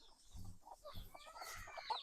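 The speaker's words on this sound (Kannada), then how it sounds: "ಕೋಳಿಗಳಿಗೆ ಸ್ವಲ್ಪ ಮೇವಾಕ್ಬಿಟ್ಟು ನೋಡಿ, ಎಲ್ಲ ಹೆಂಗೆ ಬರ್ತಾ ಓಡ್ಬರ್ತದೆ" Chickens on a rooster farm cluck softly in short, repeated bursts as they crowd in to be fed, close by in a quiet outdoor setting with no talk.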